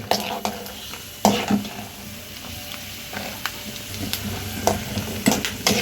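Peanuts frying in oil for tamarind pulihora give a steady sizzle, broken by repeated scraping and clattering stirs against the pan, close and fairly loud.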